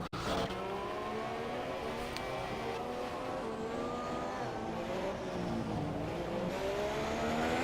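Haas Formula 1 car on a hot lap in the F1 2017 racing game, its engine whining loud and steady with rising and falling pitch through gear changes, alone and sustained.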